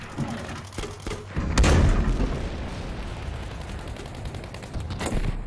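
A loud explosion erupts as an objective is destroyed in Battlefield V, a heavy boom surging over a backdrop of scattered gunfire and rumbling battle noise, with sharp shots before and after.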